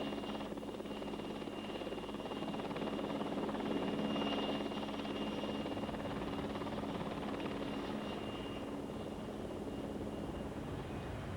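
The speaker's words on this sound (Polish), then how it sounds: "Eskaderka helikopterków leci i wysadza plutonik specjalny szybkiego reagowanka." A squadron of helicopters flies past, a steady loud rotor and engine roar with a low rumble that cuts away about halfway through, leaving a broad whooshing drone.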